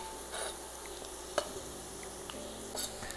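Onions added to carrots in hot oil sizzle steadily in a pan while a utensil stirs them, scraping and clinking now and then, with no talk.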